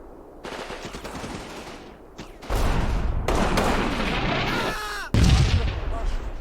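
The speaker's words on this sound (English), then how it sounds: "Ranging in my artillery slowly here." Artillery fire in the wartime strategy game Combat Mission, heavy booming blasts and rolling rumbles layered with rapid gunfire, loud and dense throughout with a sharp fresh impact near the end.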